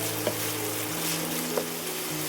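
Meat frying in a little oil in a pan, a faint, steady low sizzle with a couple of soft stirring taps, close and without speech.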